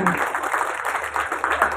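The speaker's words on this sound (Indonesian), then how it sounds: "tepuk tangan buat Gapoktan" A village gathering gives applause for the Gapoktan farmers group: a crowd clapping briefly, fairly close, mixed with talking.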